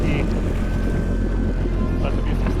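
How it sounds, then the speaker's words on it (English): A jet ski engine runs on the Colorado River as a steady, loud roar mixed with heavy wind buffeting on the microphone and water rush throughout. "Now you're on a jet ski."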